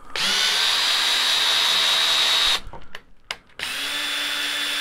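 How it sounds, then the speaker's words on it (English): A handheld power drill runs steadily at high speed during a laser power supply replacement, loud and continuous, then drops out into a few short bursts before starting again. "There's the drill."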